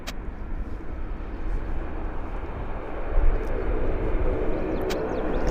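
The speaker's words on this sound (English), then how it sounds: "This is WestJet flight number 108 to Calgary." A WestJet airliner bound for Calgary taxis at Vancouver airport, its engines producing a steady broad roar and rumble at moderate distance that swells slightly midway, with faint clicks on top and no talk.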